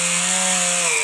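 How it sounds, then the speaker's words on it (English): A bench grinder spinning a wire wheel to clean metal motorcycle parts, a loud, steady, close whirring drone with a strong hum and bright high buzz throughout. "with the bench grinder and a wire wheel"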